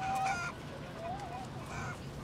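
Assertive urban hens at Brooklyn Grange in a coop, a few close squawking clucks and a rising call over a low murmur of background noise.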